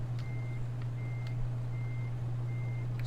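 Reversing beeps from a truck in Farming Simulator 2013: a steady high electronic tone repeats about every 0.6 seconds over a constant low engine hum, with no talking.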